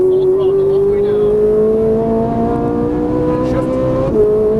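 A Ferrari 458 Italia V8 runs at full throttle on a race track, a loud steady high-pitched engine howl climbing gradually in pitch through the gear, heard from inside the car with some speech faintly underneath.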